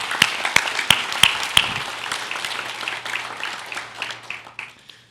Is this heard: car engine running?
no